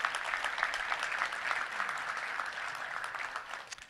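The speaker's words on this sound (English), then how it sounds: "Please stand and let's give them a round of applause." A room of attendees at a Little Rock Touchdown Club luncheon gives the board of trustees a round of applause, steady, fairly faint clapping that continues evenly throughout.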